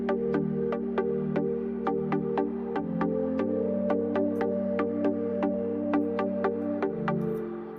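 Hive's Clean Super Plug synth patch for an Afro House track, pulsing in a quick steady rhythm on root and fifth over a sustained low tone that shifts pitch twice, close and alone without speech.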